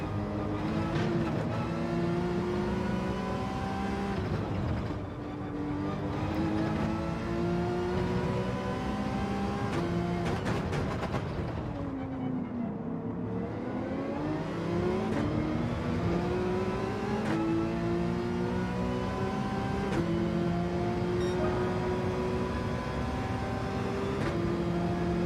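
A race car engine in Gran Turismo 7 drones steadily around the track, revving up and down with the gears and dipping sharply through a slow corner before climbing again, loud and continuous with no talk.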